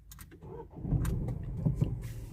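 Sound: Dacia car engine restarting

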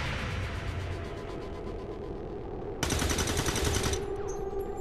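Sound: pistol shots in the video game X-COM 2

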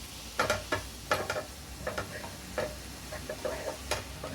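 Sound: stirring and roasting poppy seeds in a hot pan

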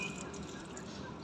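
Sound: water being poured for caged birds

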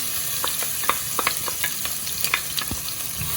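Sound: chopped onions and green chillies frying in hot oil

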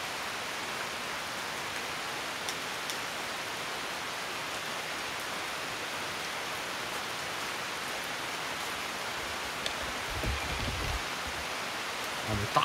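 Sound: heavy rain

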